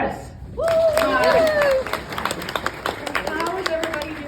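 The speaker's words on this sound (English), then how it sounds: "Round of applause for Chris." An audience claps for a performer being welcomed onto the stage at an evening show. The applause is steady and uneven, with loud whoops and voices rising over it near the start.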